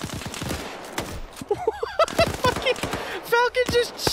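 Video game gunfire in a Sierra Leone civil war campaign: rapid, close bursts of sharp shots with crackling echoes, overlapped by shouting voices and whistling, warbling tones.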